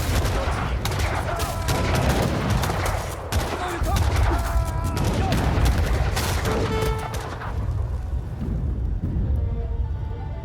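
Dense battlefield gunfire with mortar and cannon blasts in the strategy game Age of Empires III, Japanese army in a 3v3 match on the Ozarks map, volleys crackling continuously and loudly before thinning out near the end.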